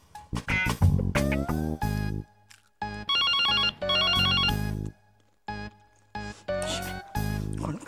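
A household telephone rings indoors, its patterned electronic ringtone sounding in short bursts amid other loud, choppy household sounds and possible voices.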